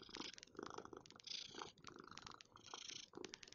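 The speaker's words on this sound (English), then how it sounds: "if you can hear that purring sound," A cat purrs close up, a soft rhythmic rumble with faint wet mouth sounds and shuffling around it.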